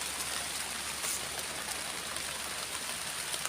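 Steady rain falls across a sugarcane field, a dense, even hiss of drops with no pauses, close and moderately loud.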